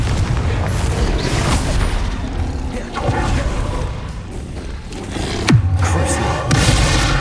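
Repeated fiery spell blasts from Hogwarts Legacy, rumbling booms and bursts landing in a busy combat mix, one sharp whooshing blast near the end, with a voice faintly audible at times.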